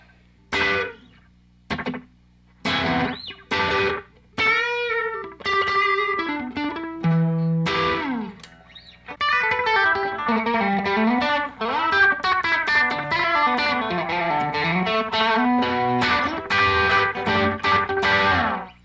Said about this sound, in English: My second preset, third sound total, is a must-have for me, which is a slapback.